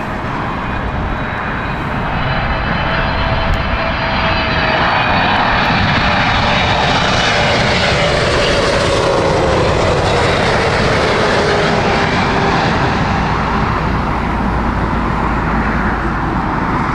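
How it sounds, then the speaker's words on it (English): A British Airways Boeing 777 landing at Heathrow in crosswinds, jet engines roaring loud and close, the whine sweeping in pitch as the aircraft passes overhead, with no talk. "British Airways here with the Seattle flight 777."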